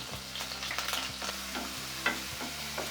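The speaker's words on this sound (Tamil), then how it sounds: "வெங்காயம் கருவேப்பிலை சேர்த்துட்டு ஒரு பரட்டு பரட்டி விட்டுடுங்க" Chopped onion and curry leaves stir-fried in a pan, with a crackling sizzle and a series of quick spatula scrapes and taps close up, while a low steady hum runs underneath.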